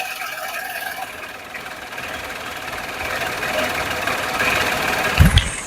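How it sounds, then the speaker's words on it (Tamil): A 2019-model used family car's engine idles steadily with a faint, even hum and light vibration, with a brief thump near the end. "நான் இன்ஜின் உங்களுக்கு சவுண்ட் இமேஜ் காமிச்சிடுறேன்."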